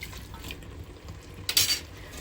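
A plate set down over a pan of tomato and field beans cooking for palav, giving one short clinking clatter of metal and ceramic midway through a quiet kitchen.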